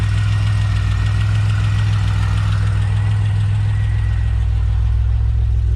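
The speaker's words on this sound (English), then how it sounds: "I wonder what that tapping noise is." A supercharged Pontiac Bonneville SSEi with an L67 engine and ZZP VS cam runs loud and close, its steady low engine drone carrying a faint repetitive tapping throughout.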